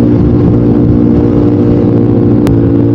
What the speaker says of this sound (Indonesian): Motor tuh suaranya berisik banget di bagian head.